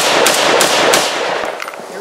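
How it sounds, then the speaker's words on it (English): A Beretta BM59 rifle fires at an outdoor range in a fast string of loud, close, sharp shots with heavy muzzle blast, followed by fading echo and faint background noise. "That was the first mag fired, and it went without a hitch"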